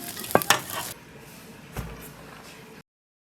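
Lamb tripe is stir-fried in a wok: a few sharp spatula scrapes and clanks up front, then a soft, low sizzle that fades before the sound cuts out.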